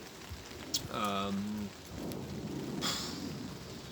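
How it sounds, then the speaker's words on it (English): Light rain begins falling over a garden beside a polytunnel in late summer, a soft steady patter with a brief rumbling, voice-like tonal sound near the middle and occasional louder drops. "It's just starting to rain"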